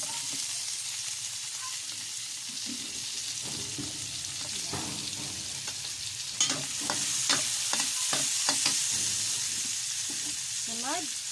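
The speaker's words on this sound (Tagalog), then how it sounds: "Igisa na natin mga kakusin ang bawang. Sunod natin ang sibuyas." Garlic, then onion, sautéing in oil in a pan, a continuous bright sizzle with a run of quick stirring scrapes and clinks in the second half.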